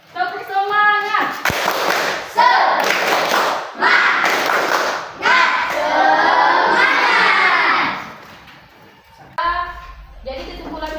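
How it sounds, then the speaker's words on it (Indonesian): Schoolchildren in a classroom perform a rhythmic clapping chant, loud bursts of group claps alternating with shouted chanting voices in a patterned sequence, with a teacher's voice heard briefly at the start and end. "ayo kita tepuk semangat lagi. Tepuk semangat."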